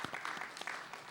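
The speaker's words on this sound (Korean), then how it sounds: "박수로 환영하시겠습니다." A church symposium audience in Los Angeles gives quiet, sparse applause to welcome a speaker, a short run of distinct individual claps that stays soft and thin.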